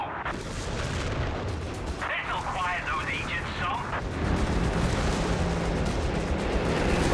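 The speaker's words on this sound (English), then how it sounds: "is that some more airburst?" Airburst artillery shells rumble and crackle through a Company of Heroes 3 match, steady dense battlefield noise with distant booms, under a caster's continuous commentary.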